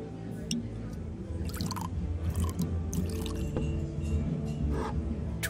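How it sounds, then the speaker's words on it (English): A drink is poured into a glass in Life is Strange: True Colors: a soft liquid trickle with scattered drips, heard under people talking. "Can I pour you a glass?"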